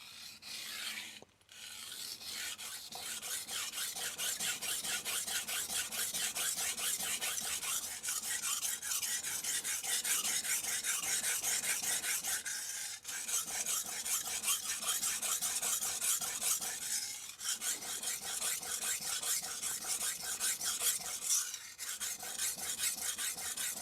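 A Tojiro Professional R2 santoku 170mm is drawn across a Naniwa Chocera 400 whetstone in a long run of even, rhythmic rasping strokes. The sound is close and fairly quiet, with brief pauses between sets.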